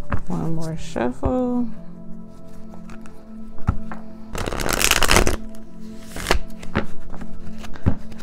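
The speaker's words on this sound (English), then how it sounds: "One more shuffle." Tarot cards being shuffled in a quick riffling burst, with a few taps and soft handling sounds, and a person speaking briefly at the start.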